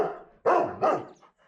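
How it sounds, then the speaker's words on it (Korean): A very large farm dog in a Korean country village barks twice in close succession, loud and near, each bark full and resonant, with a faint softer yip trailing after. "이렇게 1시간 이상 이유 없이 짖어댄다는데요."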